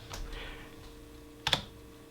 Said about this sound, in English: from the command line here, I'm just going to type reboot